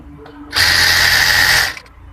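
A sewing machine stitches elastic onto a pair of baby pants in one loud, close, steady whirring run of just over a second, starting and stopping abruptly in an otherwise quiet room.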